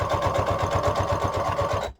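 A sewing machine stitches across the bottom of a fabric journal cover, running at a steady fast rhythmic chatter, loud and close, before stopping abruptly near the end.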